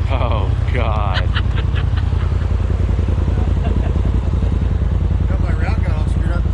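A Can-Am off-road buggy engine drones steadily on a mountain trail ride, a close, loud, continuous rumble with rattling clatter, while people talk over it.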